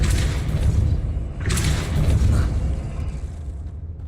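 The Depulso force spell in Hogwarts Legacy lands as deep, heavy thumps and booming impacts, with a sharper burst near the middle before fading.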